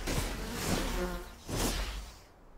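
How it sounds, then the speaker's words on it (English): Bees in the video game Enshrouded give off a steady, fairly close buzzing hum that swells twice in pulses before cutting off abruptly at the end. "Stupid bees."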